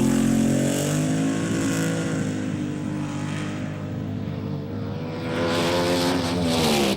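Rear-engine dragster at the 1971 NHRA Winternationals, a loud sustained engine roar with a droning harmonic tone that dips slightly mid-run then swells again, heard without talk.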